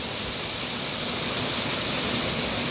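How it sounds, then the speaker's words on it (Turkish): A two-tiered waterfall pours into a karst pool with a steady, loud, broadband rush that continues unbroken, close and alone. "E, çok güzel bir şelale gerçekten."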